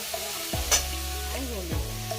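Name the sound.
green chili, potato and ginger frying in oil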